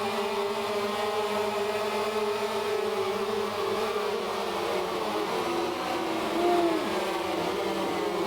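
Racing motorcycle engines in the MotoGP 2013 video game: a steady, close, high-pitched buzzing whine that holds nearly constant throughout, with slight pitch shifts and a brief swell near the end.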